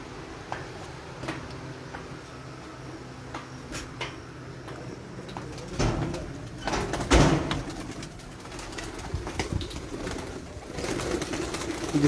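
Pigeons are released into the dark for night training, heard as faint, scattered fluttering and soft knocks over a low hum, a little louder toward the middle.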